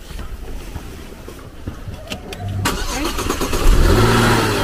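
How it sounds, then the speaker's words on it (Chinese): A Porsche with a dead battery cranks and fires up after a jump-start; a quieter opening with scattered clicks gives way midway to a rising engine note that grows louder toward the end. "启动了吧？"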